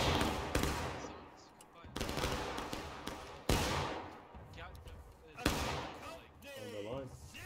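Massed musket volleys crack out in a Civil War line battle in the video game War of Rights, roughly four loud broadband blasts, each with a rolling echoing tail, while voices talk over the fighting.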